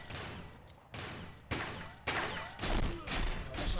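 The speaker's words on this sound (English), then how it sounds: "Oh my god, I missed my shotgun shot." Heavy booming shotgun blasts go off one after another in a shotgun-only video game match. The loud reports come in a steady rhythm, about one every half second, with ringing echoes between them.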